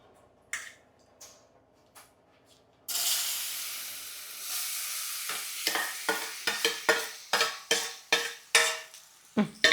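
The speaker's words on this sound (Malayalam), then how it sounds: "നമ്മുടെ പഴം നന്നായി വഴറ്റിയെടുക്കാം" Banana pieces sautéed in ghee in a pan, a steady loud sizzle broken by repeated scraping strokes of a spoon stirring, close up with no talking.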